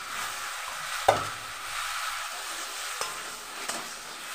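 Masala frying in a pan with fried potatoes and raw banana being stirred in, a low steady sizzle broken by a sharp scrape or clatter and a few lighter stirring knocks, close by with no talk.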